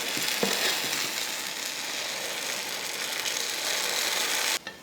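Leftover paniyaram batter fries in hot oil in the wells of a paniyaram pan with a steady broad hiss that holds for several seconds, then cuts off abruptly near the end. No one speaks.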